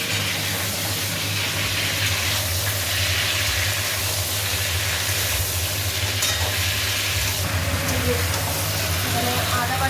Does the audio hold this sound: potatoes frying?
yes